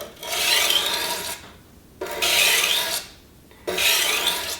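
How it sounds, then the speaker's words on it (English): Knife blade drawn heel to tip across a coarse sharpening stone, three long abrasive rasping strokes in a steady rhythm with short pauses between, close and clear, no talking. "from heel to tip, and we're grinding off that excess material"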